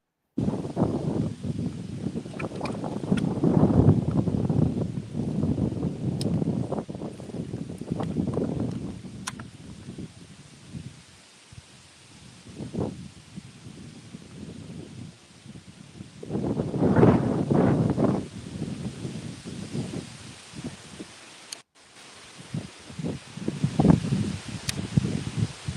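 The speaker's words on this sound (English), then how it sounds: "this wind is rocking" Strong wind blows outdoors in loud, buffeting gusts that rise and fall across the whole stretch, with brief lulls between the heavier blasts and no talking.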